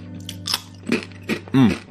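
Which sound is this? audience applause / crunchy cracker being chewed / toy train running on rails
crunchy cracker being chewed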